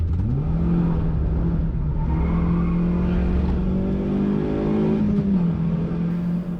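A Toyota Vitz on Z1 tyres is driven hard around the Pukekohe race track, its engine held at high, steady revs, loud and close from start to finish, with a brief dip in pitch near the end.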